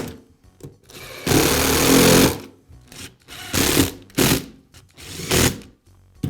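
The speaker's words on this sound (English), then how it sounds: "I can reinstall the other half of the housing. And I'll secure it with the screws." Screws are driven to fasten the housing halves of a DeWALT sander, heard as several separate whirring, ratcheting bursts of a driver with short silent gaps between them, close by.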